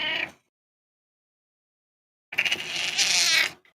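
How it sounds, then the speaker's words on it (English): A black cat gives a brief meow that is cut off, then after a pause a longer, strained, yowling meow close by, with no other sound around it. "My black cat sounds like that."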